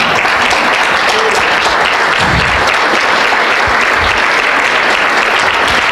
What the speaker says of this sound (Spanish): Ese aplauso es para el Señor.